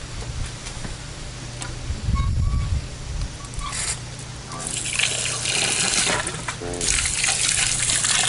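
Cold water running from a tap into a bucket of pool filter sand to rinse it, a gushing, splashing stream with clinks and shifting tone as the bucket fills, no talk.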